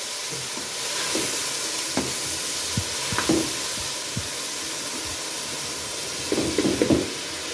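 Chicken frying in a pan with salt and ground black pepper, a steady sizzling hiss with intermittent stirring scrapes and clinks, close and fairly loud, no talking.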